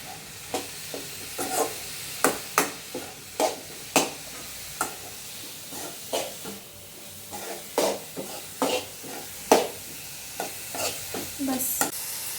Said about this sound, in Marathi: तुपात मस्त ह्या भाजून घेऊ का मग वास येता भारी